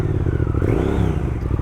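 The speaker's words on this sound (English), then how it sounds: "this setup of the Bonneville 1200cc parallel twin engine" Triumph Speed Twin 1200 with its 1200cc Bonneville parallel twin engine running steadily close by, a dense low rumble with a slight rise and fall in revs, no voices over it.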